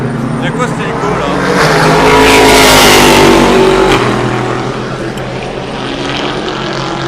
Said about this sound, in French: Il y a quoi cet hélico là?